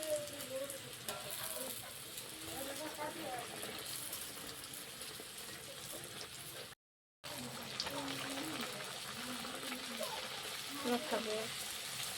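Radha pallabi dough pieces frying in a pan, a steady hiss and sizzle running throughout with a brief cut partway, while someone talks over it.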